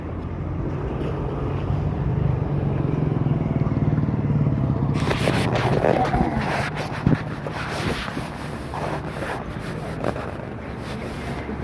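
Vehicles pass along a road in the open: a low wind-buffeted rumble builds, then brighter engine and tyre noise sweeps past in the second half, with faint talk in the background.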